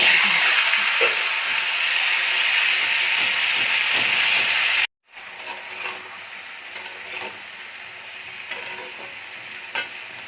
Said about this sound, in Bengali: এই তেলের মধ্যে শুকনো লঙ্কা, পাঁচফোড়ন ফোড়ন দিয়েছি, দিয়ে সবজিগুলো